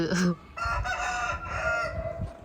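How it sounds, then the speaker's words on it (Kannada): A rooster at a village home crows once, a drawn-out, strained call lasting nearly two seconds, after a short cluck, heard close and clear with faint background noise. "ನೋಡಿ ಕೋಳಿ ಇಲ್ಲೇ ಉಂಟು ನೋಡಿ"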